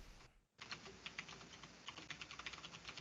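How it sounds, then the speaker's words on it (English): Rapid typing on a computer keyboard, heard as a quick, uneven run of light key clicks after a brief pause at the start, fairly close and with no voices over it. "And Jordan, I hear you over there typing, trying to search it."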